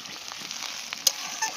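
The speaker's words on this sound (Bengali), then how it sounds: "এটা কিন্তু ভাজা ভাজা হচ্ছে" Coriander leaves, tomato and capsicum fry in a pan with a soft, continuous crackling sizzle and a few brief stirring clicks, close and fairly quiet, with no voices.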